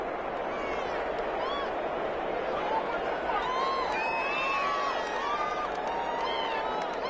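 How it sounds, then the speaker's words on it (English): A crowd in a football video game on PS4 cheers and applauds for the defense, a steady roar and bright whistles rising midway, with a commentator's voice running underneath. "How about some applause for the defense there?"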